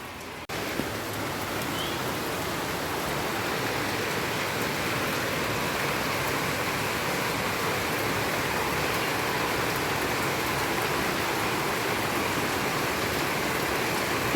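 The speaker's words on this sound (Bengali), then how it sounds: "দারুণ বৃষ্টি হচ্ছে, একদম ঝপঝপ করে" Heavy rain pours in a dense, steady roar of drops that holds constant throughout, with no talk.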